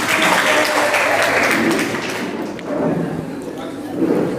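A school gathering at an Urdu high school and junior college applauds to welcome the host. Dense, loud clapping fills the first half and then tapers into a softer patter mixed with crowd noise.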